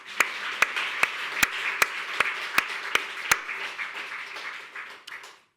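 A church congregation claps during a sermon: sharp, evenly spaced claps ring out in a steady rhythm over a soft wash of scattered clapping, then thin out and fade.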